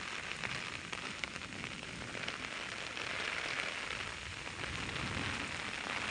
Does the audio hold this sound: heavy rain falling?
yes